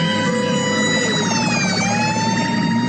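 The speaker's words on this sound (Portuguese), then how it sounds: "Ele ouviu a sirene e saiu rápido para liberar o trânsito." Emergency vehicle siren wailing loudly and steadily, its pitch sweeping up and down continuously throughout, close and alone with no talk.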